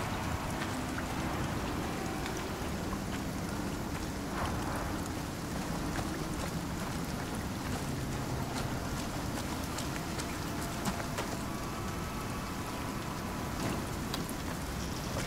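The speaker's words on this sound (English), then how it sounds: "And it's raining." Steady rain in the video game Icarus patters continuously in a soft, even wash, with occasional faint drips and no voices.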